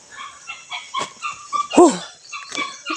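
A dog whines and yips in short, high bursts, with one louder bark-like yelp in the middle, close by.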